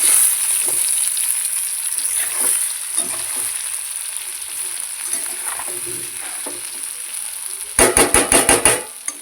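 Masala for stuffed brinjal sizzles steadily in a pan, a continuous close frying hiss with faint stirring scrapes, ending in a quick run of metallic clinks.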